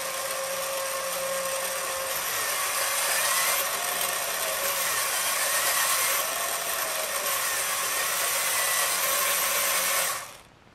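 The wheel motors of a small robot under PID control give a steady, close electric whine with a thin tonal hum. The pitch wavers slightly as the speed adjusts, it lasts about ten seconds before cutting off, and no one speaks.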